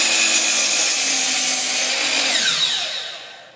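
A miter saw spins down after cutting a bevel in wood, a loud steady high whine that slowly falls in pitch and fades away, close and with no voices.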